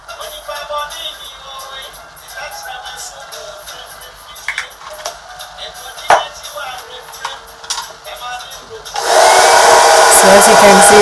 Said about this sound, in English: I'm just using my blow dryer to dry it a bit to make it tacky